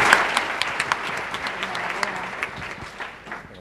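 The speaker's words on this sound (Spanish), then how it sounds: "Bueno, un aplauso para la emprendedora." Audience at an awards event applauding an entrepreneur, dense clapping with a few louder individual claps standing out, steady then tapering slightly, with murmured voices beneath.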